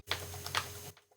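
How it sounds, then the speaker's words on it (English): Quick keystrokes on a computer keyboard, a short cluster of close, soft clicks over a faint hum, with no talking. "I know you can hear me typing."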